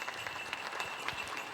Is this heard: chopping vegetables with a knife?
no